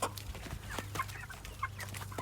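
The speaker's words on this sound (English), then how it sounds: "That's a smaller hen, isn't it?" Hen clucking while being handled and weighed: several short, quick clucks and squawks in an irregular burst, close and fairly clear, over a low steady hum with some handling noise.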